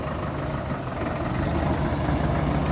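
A Solis 105 tractor engine idles steadily and continuously with a low, rough, rumbling drone and no voices.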